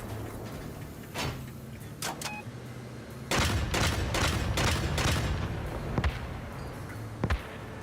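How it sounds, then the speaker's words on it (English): Machine gun fire in a video game raid comes in short bursts, then in a loud sustained stretch of rapid shots, with a few single bangs near the end. "But for right now, machine gun mode."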